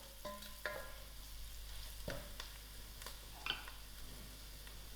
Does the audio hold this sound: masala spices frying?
yes